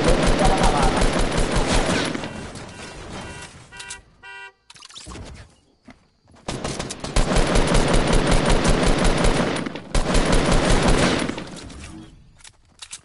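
Heavy bursts of automatic gunfire in a PS4 shooter, long sustained rattling volleys separated by short gaps, loud and close, with a few quieter shots in between.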